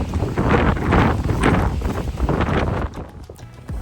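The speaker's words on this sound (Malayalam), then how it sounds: "കാറ്റ് ഇതൊരു കാറ്റ്" Strong wind blowing outdoors in the Yorkshire Dales buffets the microphone in a loud, continuous roar with gusty swells, easing noticeably for the last second.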